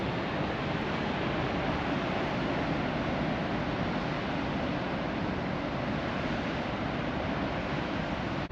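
A Yellowstone waterfall seen from an overlook gives a steady, full-bodied roar of rushing water that holds at an even level throughout, with no voices.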